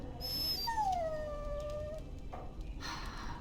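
A dog in Dragon Age: Origins gives a long, drawn-out whimpering whine that slides downward in pitch, fairly close and clear, followed by a few softer rustles and a short exhale.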